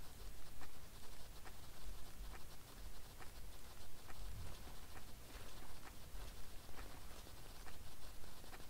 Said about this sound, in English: Oh, great. Now there's a bit of rain.